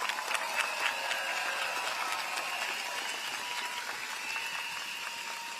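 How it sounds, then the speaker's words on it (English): Sustained applause from a large crowd at an outdoor People's Action Party election rally at Jurong West Stadium, a steady dense patter of many hands with no voices over it. "A warm round of applause."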